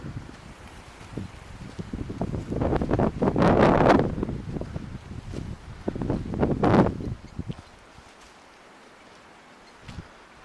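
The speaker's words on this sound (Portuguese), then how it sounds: "Tá ventando muito hoje." Strong wind buffets the microphone at a hilltop lookout, a roaring gust swelling and fading twice before easing to a quieter rush.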